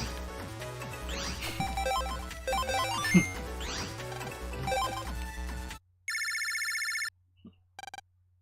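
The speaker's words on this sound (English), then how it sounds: "Looks like a phone call for you." A phone rings in the Mega Man Battle Network 2 video game, a bright electronic trilling chime after several seconds of busy chiptune music, followed by a short blip and a brief second ring.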